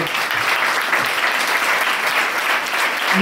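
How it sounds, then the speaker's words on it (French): Audience applause at a leadership talk, a dense, steady wash of many hands clapping at fairly close range, filling the whole stretch without a pause. "Je pense qu'on peut l'applaudir très fort"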